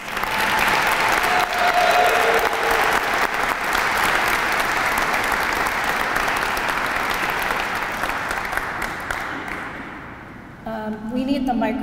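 Audience applause for honorees at an Italian American Heritage Month opening ceremony, a loud, dense round of many people clapping that holds steady and then thins out, with voices appearing near the end.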